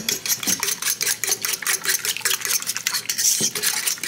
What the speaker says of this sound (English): we're just gonna whisk that together